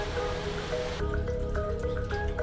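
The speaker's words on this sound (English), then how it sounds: "Listen, you can actually hear the ice melting." Glacier ice melting into meltwater, with water trickling steadily at first and then separate drips falling one after another, close and clear with no voices.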